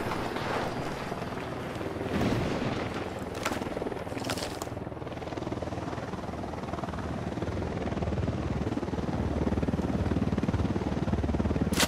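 Helicopter from the video game Ghost Recon Wildlands, a steady loud rotor and engine drone filling the whole stretch, with bursts of gunfire and battle noise mixed in.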